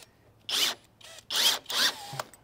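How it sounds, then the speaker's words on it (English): A power drill drives number eight by 2-inch screws into Acre sustainable decking boards while building a compost bin. It gives three close, loud whirring bursts separated by short pauses. "The other thing about screwing all this together"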